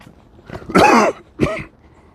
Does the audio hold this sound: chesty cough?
yes